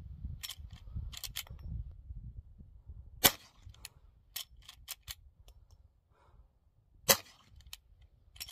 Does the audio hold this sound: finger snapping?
no